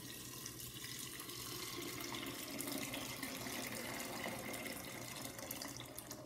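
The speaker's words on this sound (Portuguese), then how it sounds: "Agora eu vou juntar água fervente." Boiling water pours steadily into a large pot of corn for soup, a faint, continuous splashing trickle that lasts throughout with no voices.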